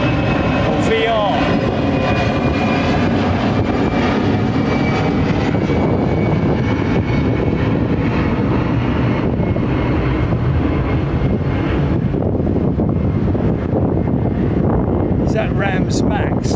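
A jet airliner rotating and lifting off the runway at London Heathrow, its broad engine roar loud and steady throughout with wind buffeting the microphone, while people talk over it.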